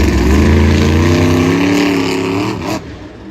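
Monster truck Soldier Fortune at a Jacksonville event, its engine roaring loud and steady with a rising rev as it climbs into a sky wheelie, then cutting off abruptly near the end.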